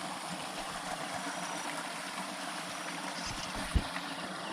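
Shallow forest creek flowing in winter, a steady broad rush and trickle of water heard up close, with a faint knock near the end and no talking.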